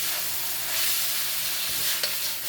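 Long green beans, turnip and onion sizzle steadily in a hot pan during a stir-fry, a loud close hiss with a few faint utensil scrapes and no talk.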